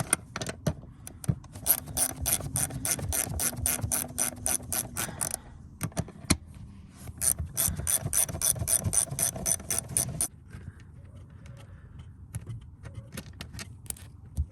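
A ratchet wrench clicks rapidly in repeated bursts while loosening 13 mm bolts on a Chevrolet Impala Caprice seat, close up, with metallic jangling and pauses between runs, then a quieter rustle.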